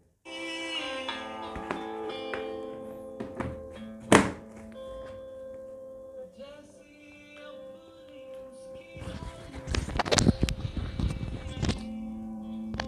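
A song with vocals plays from a phone shut inside a closed box, sounding muffled and dull, with a couple of sharp knocks partway through and busier, louder bursts near the end.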